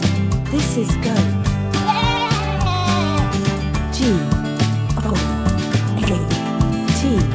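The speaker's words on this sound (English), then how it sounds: "Goat. This is goat." A goat bleats over busy, continuous background music, with its calls standing out briefly against a steady, loud instrumental bed.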